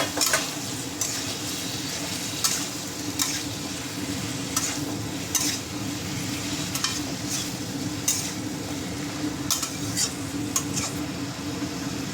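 Large pieces of raw pumpkin with tomato and ground cumin cook in a pot for a rohu fish curry, a steady sizzle under repeated clinking utensil scrapes against the pot, close and continuous, with no voices.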